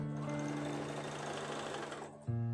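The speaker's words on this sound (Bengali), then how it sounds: "সেলাই করে নিলাম" A sewing machine stitches fabric for a quilted Christmas placemat, a steady whirring run of the motor that stops near the end, followed by a brief lower hum.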